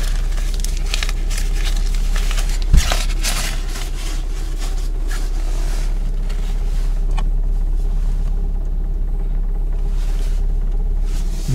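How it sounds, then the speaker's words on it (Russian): A GAZelle van's engine runs steadily with a low, continuous rumble and a slight knocking detonation, one sharp knock standing out near the start, heard close up with no talk. "Машина работает как-то, немножко детонирует."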